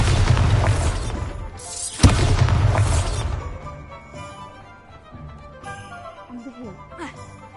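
A Bombarda spell explosion in Hogwarts Legacy, a loud booming blast with a sharp crack around two seconds in, then a rumbling decay fading into quieter game ambience, with speech over it.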